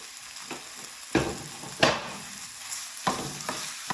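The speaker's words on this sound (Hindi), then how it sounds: "अब इसके अंदर चिकन डाल देंगे, इसको अच्छी तरह भून लेंगे।" Chicken pieces with ginger and garlic sizzle softly in a pan while a spoon stirs them, giving a few distinct scraping strokes over the low frying hiss.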